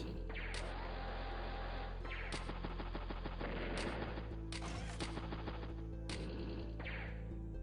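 In Advance Wars: Days of Ruin, game artillery fires repeated rapid bursts of loud, crackling, gunfire-like blasts over a steady low electronic hum, with sharp bright accents recurring every second or so.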